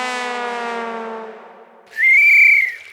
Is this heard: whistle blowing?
yes